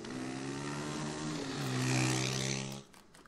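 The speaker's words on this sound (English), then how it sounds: "Isn't there a way of, like, quietening the motorbikes?" Motorbike engines in a Walking Dead episode drone and rev loudly, with steady tonal engine hum swelling toward a peak before cutting off abruptly near the end.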